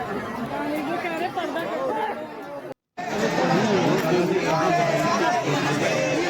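Thick crowd hubbub at Barsana Dham temple: many voices talking at once, loud and close, with a brief cut to silence midway before the dense babble resumes.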